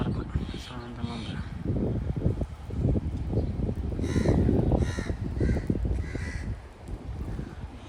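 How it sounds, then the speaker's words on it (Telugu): Crows cawing on a quiet residential street in Abu Dhabi: several harsh, repeated caws in two bursts, fairly close, over a steady outdoor hum, with faint voices in the background. "అలా పక్షులు అలా చూడవచ్చు, పక్షులు వయసు మనకు ప్రశాంతంగా ఉంది"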